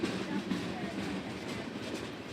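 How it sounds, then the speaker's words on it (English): Trains rolling along railroad tracks in Old Town Gaithersburg, a close, continuous low rumble with rattling wheel noise. "you can watch the CSX, Amtrak, and MARC trains rumble by"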